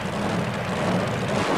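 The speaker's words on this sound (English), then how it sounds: "now it's Jeff Acker's turn in the Insanity Roadster from Milwaukee" Loud, broad engine roar of a super modified mud racing car, a roadster competing at Tampa Stadium in 1991, a steady, distant-sounding rumble filling the short stretch with no talk.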